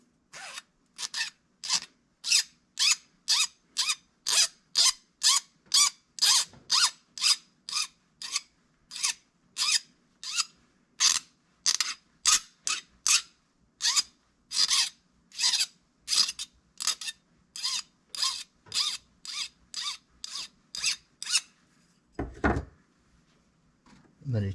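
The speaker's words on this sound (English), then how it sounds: "So we're going to take a file." Metal file rasping across the rough cut end of a workpiece, a long steady series of close, loud, evenly spaced strokes, with a brief knock near the end.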